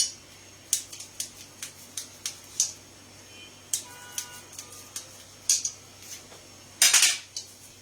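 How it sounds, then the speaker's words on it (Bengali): A knife chops paneer into small pieces on a board, giving a series of sharp, irregular taps and clicks, fairly close and clear, with a brighter cluster of hits near the end. "আপনারা চাইলে একটুখানি বড় করেও কাটতে পারেন, কিন্তু আমি একটু ছোট করেই কাটছি।"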